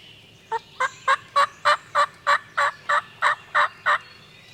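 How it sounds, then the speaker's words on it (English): A wild turkey gobbler in a field gives a rapid run of about a dozen evenly spaced, loud gobbling notes close by, with quiet outdoor background and no talking. "Just had a bird gobble"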